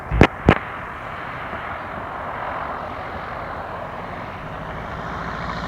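Light aircraft engine roaring steadily through a go-around during an airspeed calibration flight, a broad continuous drone after two sharp bursts at the start.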